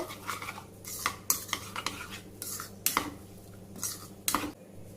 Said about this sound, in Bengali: 1 চামচ ভিনিগার, আর একটু সাদা তেল করে মাখিয়ে নেব।